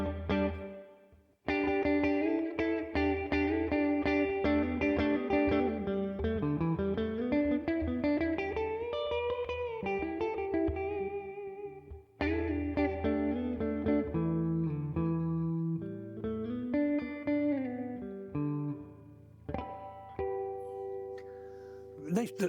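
Electric guitar through a Tone King MK2 amplifier's reverb, chords and sustained bending notes ringing out with a lush wet tail, played alone with brief pauses between phrases.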